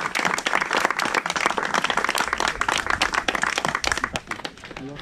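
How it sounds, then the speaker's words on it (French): Dense audience applause at a gathering for a charity trail walk, many hands clapping steadily and loudly for the whole stretch, close and full, with no talk over it. "Vous pouvez applaudir, François."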